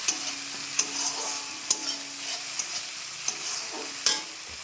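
Masala fries in oil in a pan with a soft, steady sizzle, marked by several sharp scraping stirs and clicks of a utensil against the pan at irregular intervals, with no talking.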